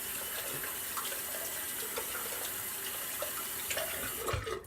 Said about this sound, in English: I'm just going to quickly rinse out the lather bowl.